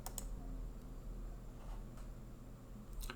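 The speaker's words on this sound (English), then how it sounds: "So I'm going to click on that." A computer mouse gives a few faint, close clicks: a pair at the start and another near the end, over a quiet background with no talking.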